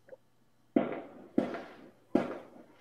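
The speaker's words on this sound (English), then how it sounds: "I'm hearing fireworks." Three muffled firework booms go off one after another at uneven intervals, each with a rumbling tail, sounding distant and fairly faint.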